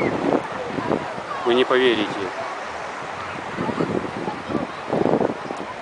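Wind and surf from the Atlantic Ocean at the Varadero beach in Cuba roll and gust behind someone speaking, with the breaking waves rising and falling under his voice.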